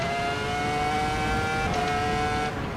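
A race car in the Assetto Corsa EVO racing game downshifts around the Imola circuit, its steady engine drone stepping down in pitch with a couple of quick blips, heard alone at moderate level.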